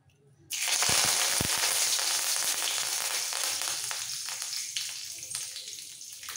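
Dry red chillies and curry leaves hit hot refined oil with a sudden loud sizzle, crackling and spitting steadily close by before easing slightly toward the end.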